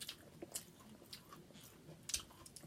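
Fried jumbo shrimp crunched and chewed close up, with quiet repeated crisp bites and wet mastication sounds, faint and intimate, with no talking.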